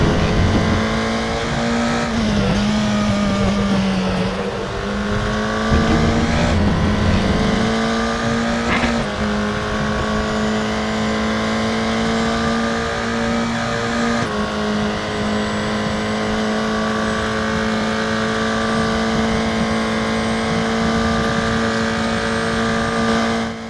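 A race car engine drones loud and close in the RaceRoom racing game, holding a high steady pitch with brief dips and rises at gear changes and corners, and tyres squeal now and then beneath it.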